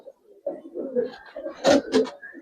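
Gribaz coloring pigeons coo in a loft, a few close, soft throaty calls rising to louder rolling coos near the end.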